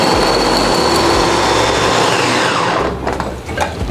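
An electric food chopper whirs loudly while chopping red chilies with roasted shrimp paste, a steady motor drone that runs and then winds down near the end.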